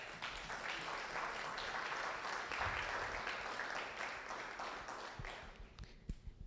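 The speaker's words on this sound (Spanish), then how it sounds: "¿Usted se puede dar un fuerte aplauso a usted mismo?" A church congregation at a Sunday service breaks into loud, dense applause that holds steady for several seconds, then thins into scattered claps as it fades.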